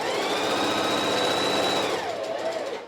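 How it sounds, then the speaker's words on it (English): A sewing machine runs a long straight stitch on fabric, a loud, steady mechanical whirr that holds evenly for about two seconds and then slows and winds down, heard close and alone. "I'm just going to sew around."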